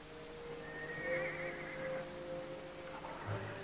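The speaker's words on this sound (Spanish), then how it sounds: "Eso fue un relincho, ¿eh?" A horse whinnies once in a ranch corral in a western drama, a clear mid-distance neigh rising and trailing off over a steady tonal background.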